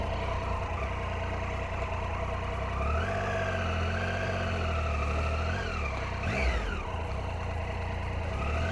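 A 2015 Triumph Tiger 800 XRX motorcycle in road mode pulls away and accelerates smoothly, with a steady engine drone rising in pitch, heard onboard under wind noise.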